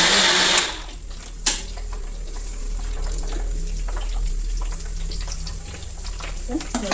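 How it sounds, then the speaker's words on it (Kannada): A mixer grinder churns aloe vera for herbal hair oil, opening with a loud whirring burst and a sharp knock, then settling into a steady, muffled grinding whir. "ಲೋಳೆ ಸರನ ಹಾಕ್ತಾ ಇದ್ದೀನಿ ರುಬ್ಕೊಂಡ್ಬರ್ತೀನಿ"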